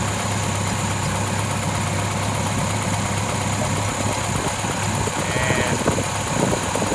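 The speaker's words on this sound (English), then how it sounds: "I think that's going to be our best, smoothest idle" A car engine fitted with a Holley 5200 carburetor idles smoothly and continuously, a close, even rumble with a steady pulse and no talking over it.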